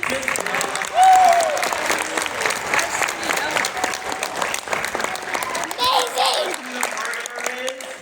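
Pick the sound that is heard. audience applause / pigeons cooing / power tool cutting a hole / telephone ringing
audience applause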